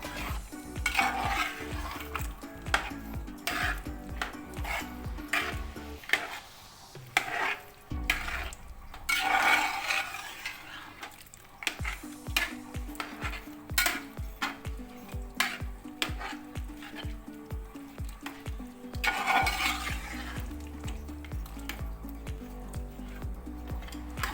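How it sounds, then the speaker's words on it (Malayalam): Tapioca biryani is stirred and mixed in a pan, with a spoon scraping and clattering against the metal in a steady, repeated rhythm over a soft sizzle, close and clear throughout. "ഇത് നന്നായിട്ട് ഇളക്കി മിക്സ് ചെയ്ത് കൊടുക്കാം."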